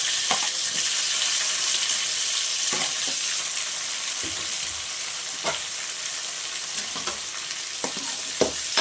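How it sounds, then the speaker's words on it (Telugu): Tomatoes go into a pan of onions already fried red for an okra curry, setting off a steady, close sizzle with repeated scraping and stirring clicks throughout. "ఇప్పుడు మనం కరిగి తెచ్చుకున్న టమాటాలు అయితే వేద్దాం"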